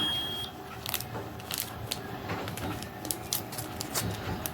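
A Keto Mojo glucose meter gives a single short electronic beep as it powers on, a thin steady tone lasting about half a second at the start, then fading into soft clattery room noise.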